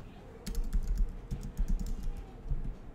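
Fingers type on a computer keyboard in a quick, uneven run of close, crisp key clicks with brief pauses, steady and moderately loud throughout.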